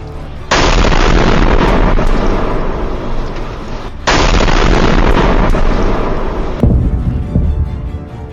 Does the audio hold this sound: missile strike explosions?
yes